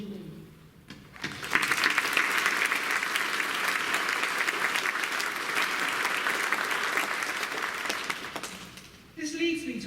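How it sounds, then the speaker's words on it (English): An audience at a school speech day breaks into sustained, full applause that builds quickly and holds steady for several seconds before cutting off, with a voice speaking briefly before and after. "We take this opportunity to applaud you all."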